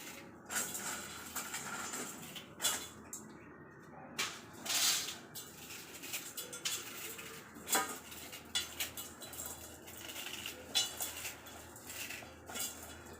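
A dry block of Maggi instant noodles is broken into small pieces in a home kitchen, giving scattered crisp cracks and crunchy snaps with light clattering throughout, close and fairly quiet, with no talking.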